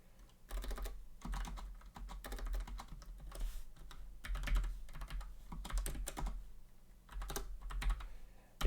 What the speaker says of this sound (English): let's type this out real quick